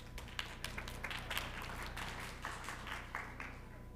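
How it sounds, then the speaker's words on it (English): A small audience at a school district governing board meeting applauds after a vote, a sparse patter of hand claps that is faint and distant in the room, holding steady for several seconds. "Even without catering, they're applauding."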